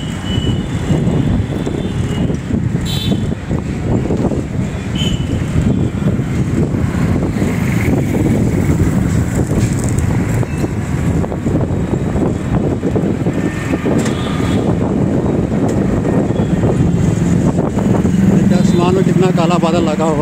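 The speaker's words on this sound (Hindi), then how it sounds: "बारिश होने वाली है और तेज हवा भी साथ में चल रही है।" Strong wind ahead of rain roars and buffets the microphone in a loud, steady low rumble that continues for the whole stretch without a break.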